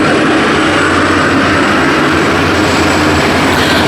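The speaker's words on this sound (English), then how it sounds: "Huge helicopter." A large helicopter passes overhead as a loud, steady broadband roar of rotor and engine noise, sustained throughout without talk.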